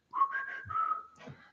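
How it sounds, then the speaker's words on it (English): A person whistles a short tune, a clear bright melody of a few sustained notes with a brief pause before a final phrase, heard up close and alone. "Yes, whistle."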